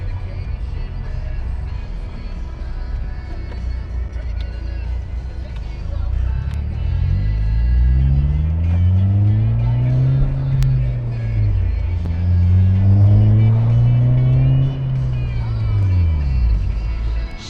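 A 2012 Honda Civic Si engine revs up twice in clear sweeping rises and falls, each climb pulling higher before easing off, heard from inside the car over a steady low rumble.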